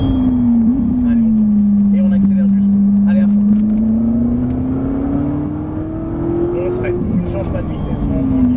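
Ferrari 458 Italia on a race track at full throttle without shifting, its engine droning loud and steady, rising and falling slightly in pitch, while a driving instructor talks over it throughout.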